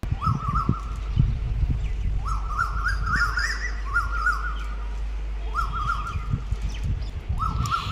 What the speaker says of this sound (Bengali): এই সামনে ছোট্ট ঝোপটাতে বসে কোকিল ডাকছে একটা